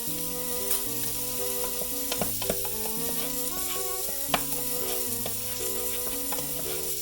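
A barramundi fillet fries in a pan, a steady hiss of sizzling running under continuous melodic music, with a few sharp clicks scattered through.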